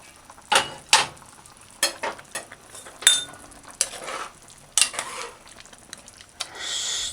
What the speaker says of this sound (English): Stir it gently